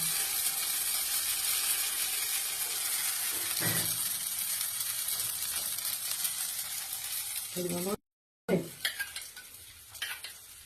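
Continuous bright sizzle of uttapam batter frying on a hot pan, with a few utensil clinks and scrapes, briefly cut off, then resuming.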